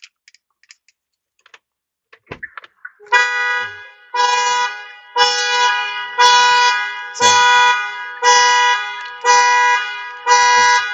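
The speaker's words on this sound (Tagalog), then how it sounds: "pag binuksan natin, mag-alarm ito kasi hindi mabuksan ng remote" A few faint clicks, then a Jetour X90's car alarm starts blaring close by, triggered because the remote cannot unlock it, in a steady run of repeated pulses, each a bright electronic tone.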